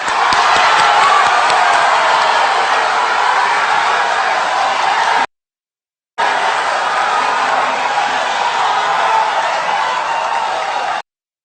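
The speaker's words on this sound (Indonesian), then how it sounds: "Silakan tepuk tangan." Indonesian presidential and vice-presidential debate audience applauding and cheering, a dense steady crowd roar in two loud stretches broken by a brief gap.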